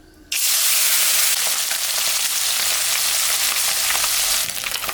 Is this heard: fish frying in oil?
yes